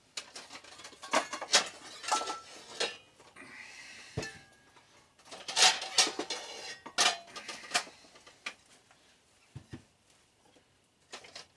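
Ceramic plates clinking and clattering as they are handled in a home kitchen, a series of sharp close knocks and rattles in bursts with short pauses between.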